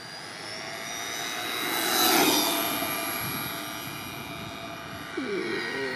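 High-pitched electric motor whine from a JLB Racing Cheetah Extreme RC car on an upgraded 120-amp ESC at full throttle, swelling as it passes closest and then fading under steady outdoor noise.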